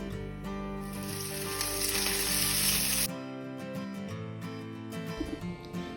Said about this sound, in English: Now, I put the fish. Dry the fish in a butter. Also, fry the fish.